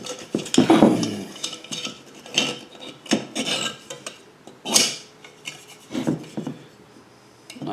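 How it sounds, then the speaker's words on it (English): Metal support wire for a potted orchid being cut off, giving a few sharp snips and scraping rasps in short bursts, close by with no talk. "I'm gonna cut it off here just a second."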